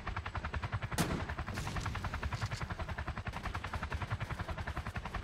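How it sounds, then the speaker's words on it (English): Rapid automatic AK rifle fire from the Roblox game Polybattle crackles in dense, steady bursts close by, with a heavier blast near the start and no talking. "He's shooting this right, AK at me"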